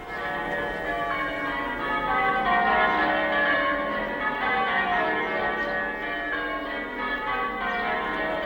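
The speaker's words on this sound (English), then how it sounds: "the rhyming and the chiming of the bells, bells, bells" Church bells ring a practice peal in a dense, continuous wash of overlapping strikes and resonant tones, loud and steady throughout with no voices.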